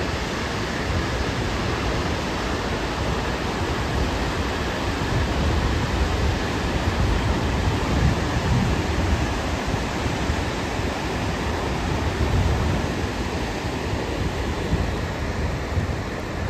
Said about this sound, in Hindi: ये देखो झरना